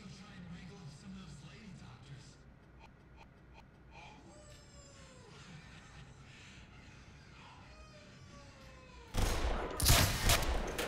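Gunfire in the Black Mesa video game, a sudden loud burst of rapid shots near the end after a long stretch of quieter game ambience with faint chirps and electronic sweeps.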